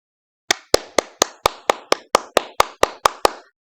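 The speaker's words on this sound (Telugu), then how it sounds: "అన్ని యానిమల్స్ అలా క్లాప్స్ కొడుతుంటే" Twelve sharp, evenly spaced claps in quick succession, crisp and close with a brief ring after each, standing in for animals applauding in a children's story.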